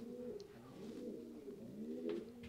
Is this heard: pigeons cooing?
yes